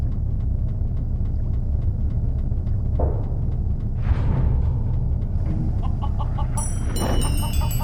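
Short rooster clucks in the PC game Viaje al Centro de la Luna over a low, steady electronic hum, followed by bright chiming tones near the end.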